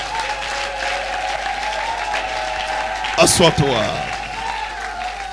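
A church congregation breaks into a loud burst of applause near the end, rising briefly over a speaking voice and background music.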